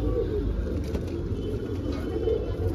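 Pakistani pigeons cooing in a loft, a steady low murmur of soft coos under continuous background noise with no clear speech.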